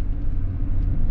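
A Chevy Colorado pickup powers through beach sand dunes, its engine a steady low rumble that stays loud and constant from start to finish with no voices.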